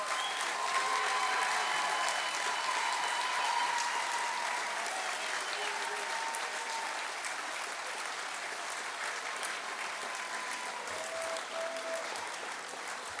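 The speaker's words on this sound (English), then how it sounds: "why don't you give a big round of applause to everybody that supported you all the way through your studies?" Audience applause at a graduation ceremony, a dense sustained clapping from a large crowd lasting over ten seconds, steady and full, tapering slightly toward the end, with no clear talk over it.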